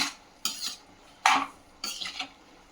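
Tomato pieces stirred in a pan over a medium flame, salt just added: four short scraping, clinking strokes of a utensil against the pan, close and separated by brief pauses.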